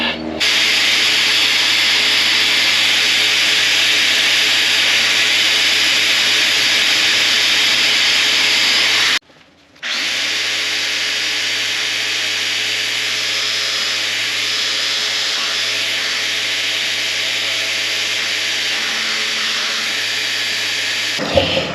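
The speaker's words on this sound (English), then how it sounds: "What I'll do now is get the aggressive sander and sand that down." An aggressive power sander grinds gel coat off a fiberglass surface, a loud, steady abrasive whine running continuously close up, broken by one brief pause before starting again.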